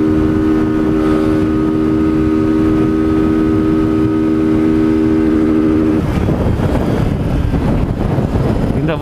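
Loud, close engine droning at a steady high idle, then its pitch breaks into a rougher, fluttering rev for the last few seconds.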